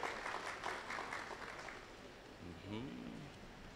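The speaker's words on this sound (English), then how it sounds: "Big round of applause to her." Applause from an audience at a tech community gathering fills the first couple of seconds as a broad patter, then fades while a voice begins talking near the end.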